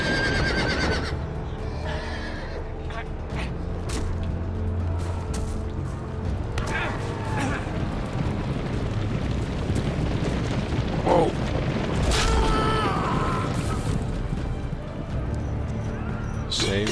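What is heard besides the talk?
horses neighing and galloping in the Game of Thrones video game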